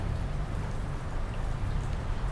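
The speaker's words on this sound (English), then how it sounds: "because it's raining and blowing" Steady rain falls with a low wind rumble outdoors at Bristol Union Station by the railway, a continuous, fairly loud wash with no pauses.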